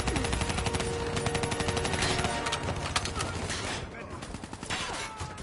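Dense gunfire from the Black Ops 3 campaign on PS4 Pro rattles in fast repeated bursts, fading into scattered shots toward the end.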